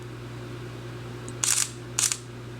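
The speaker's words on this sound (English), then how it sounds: "You just hit the shutter button once and it fires off all 3 shots." A Sony NEX-5N camera in AutoHDR mode fires its shutter for a three-shot bracketed burst, heard as a quick series of crisp mechanical clicks close to the microphone over faint room hum.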